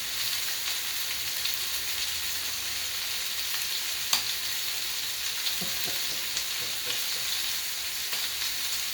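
Steady, close sizzling and spattering of ribs frying in a pan, continuous throughout with occasional small pops and clicks.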